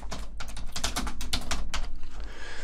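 Rapid typing on a computer keyboard while entering a text title in Adobe Premiere Elements 2025, with a continuous run of close, crisp key clicks that slows and fades near the end.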